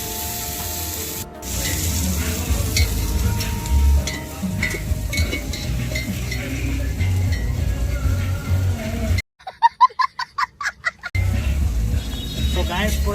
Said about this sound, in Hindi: गार्लिक और जिंजर का पेस्ट डालने के बाद पूरा मिक्स कर रहा हूँ, देख सकते हैं यहाँ पे।